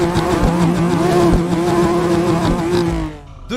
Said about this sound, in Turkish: Herkes yan yana park etsin de egzoz sesi vermeyin.